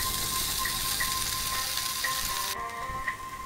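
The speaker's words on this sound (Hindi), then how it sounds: "नमक डालने के बाद मैंने इसे 2 से 3 मिनट और फ्राई किया है।" Potatoes sizzling steadily in hot oil in a pan while being fried for spicy dhaba-style dry aloo dum, a dense continuous crackle with a few faint clinks, easing slightly toward the end.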